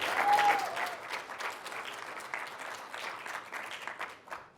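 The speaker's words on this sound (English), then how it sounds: "I actually think that's worth a round of applause." Applause from a conference hall audience at a tech presentation, a brisk burst of many hands that is strongest at the start and then thins out, somewhat distant and moderate in level.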